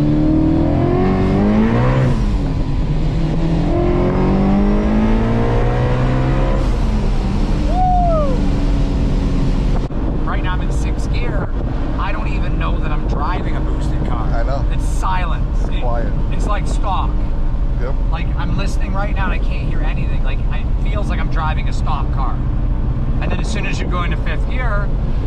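A 1000 hp Procharger-supercharged Shelby GT350 Mustang roars as it accelerates hard, loud and close, with rising engine pitch sweeping up through gear changes, then a sustained aggressive drone with supercharger whine; voices talk over it.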